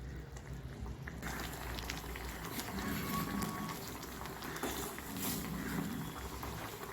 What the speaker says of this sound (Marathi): मासे चांगले शिजत आहेत